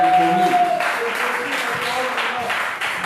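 A church meeting audience at the Branham Tabernacle breaks into applause, a steady wash of clapping lasting a few seconds, while a voice carries on over the start of it.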